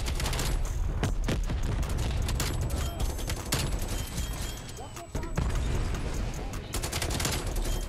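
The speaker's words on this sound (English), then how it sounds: "Kid shooting at me, dude." Dense, rapid gunfire from Black Ops Cold War runs nonstop in loud bursts and volleys, with a player talking over it.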